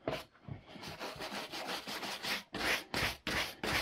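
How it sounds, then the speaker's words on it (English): Stiff brush scrubbing debris off leather work boots, a run of rough bristle strokes in uneven bursts, close and moderately loud, with no talk. "I'm just going to hit these with a stiff brush"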